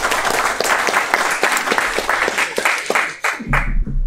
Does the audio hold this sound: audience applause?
yes